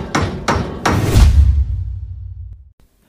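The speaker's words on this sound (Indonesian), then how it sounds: "memukul bagian kapal agar mereka yang di atas mendengarnya" A hammer strikes a submarine hull three times in quick succession, loud sharp metallic blows that grow heavier. The last hit leaves a long low ringing rumble that fades out.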